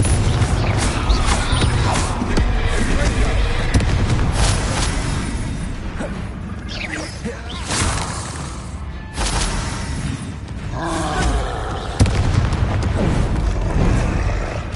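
Explosive Confringo and Bombarda spell blasts in Hogwarts Legacy, a dense, loud run of booms and crashing impacts layered over continuous battle noise, with shouted incantations mixed in.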